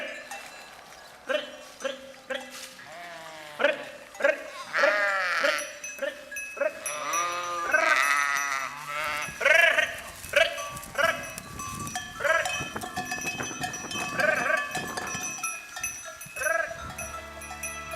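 Sheep bleat again and again from a played recording, a flock of overlapping wavering cries close and loud, with a cowbell clanking, some hoof clops and a human voice calling among them.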